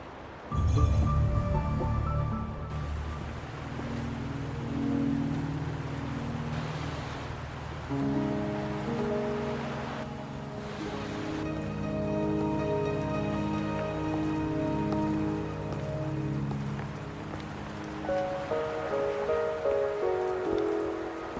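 Steady rain falls in the video game Wuthering Waves, a continuous hiss beneath layered orchestral music with sustained tones and melody throughout.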